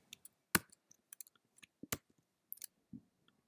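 Scattered quiet mouse clicks on a web page button, sharp isolated ticks with irregular spacing, close and faint in a quiet room.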